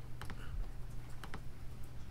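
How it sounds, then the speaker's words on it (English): Keys clatter on a computer keyboard at a board of directors meeting, a few quick bursts of soft typing close by in a quiet room, with no voices. "let's just see what he's typing"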